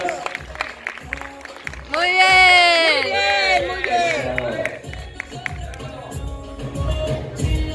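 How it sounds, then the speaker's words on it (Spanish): Audience clapping and cheering at a Classic Physique bodybuilding competition, with a loud burst of applause midway that continues as a crowd under a voice at the start and end. "Y aplauso para todos sus atletas."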